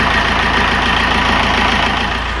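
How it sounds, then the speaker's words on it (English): Narrowboat diesel engine running after cleaning, a steady close, loud idling chug with a constant low throb and no pauses. "I'm sure that I heard the engine purr a thank you when I ran it at the end."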